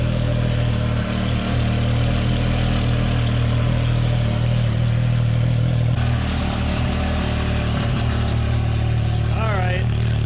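A brand new engine in a nitrous-equipped Can-Am X3 idling as it warms up, a steady loud low rumble running throughout with a slight shift partway, close by, with people talking over it.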